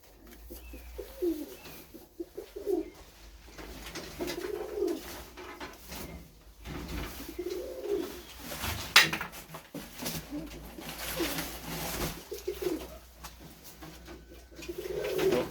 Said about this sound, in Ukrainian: У нас голубочка.